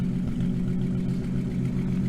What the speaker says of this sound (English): It's got a sweet sound, that straight exhaust pipe.